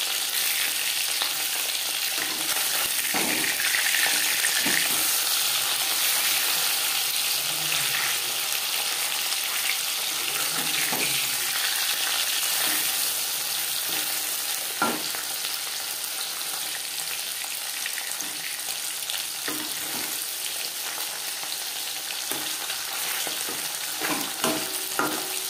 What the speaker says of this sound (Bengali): মাছ ভেজে নেওয়া হয়ে গেছে